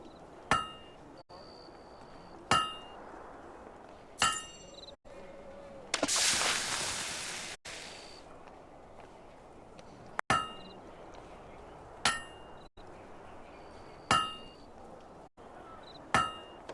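A smith's hammer rings on a blade at a forge in Fable II, striking in a steady rhythm about every two seconds with bright metallic clangs; a burst of hissing noise, like quenching or bellows, interrupts midway.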